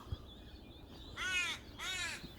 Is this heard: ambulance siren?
no